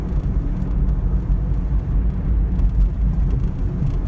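A Toyota Prius accelerating on the road, heard as a loud, steady low rumble of engine and road noise that holds throughout without pause.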